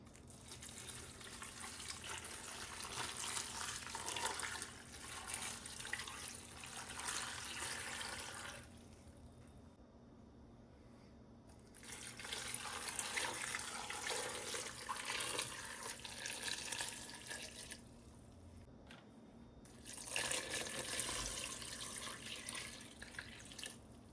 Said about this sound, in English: And now we can start adding our water.